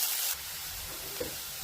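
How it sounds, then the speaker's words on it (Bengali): Potatoes frying in oil in a wok, a steady close sizzle that opens with a brief loud spray-like burst and then settles into an even crackling hiss. "কড়াইতে তেল দিয়ে দিয়েছি, এখন আলুটা আমি ভেজে উঠিয়ে রাখবো"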